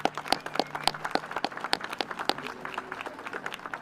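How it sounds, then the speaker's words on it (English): Audience applause at a school Arbor Day celebration, a modest crowd clapping in a quick, uneven patter of distinct claps that carries on steadily for several seconds. "Let's give them a big round of applause."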